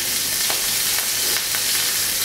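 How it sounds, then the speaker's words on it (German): Ostrich steak searing in hot oil in a pan, a loud, steady, dense sizzle with faint crackles throughout and no speech. "Das lassen wir schön von beiden Seiten schön kräftig vollgelb anbraten."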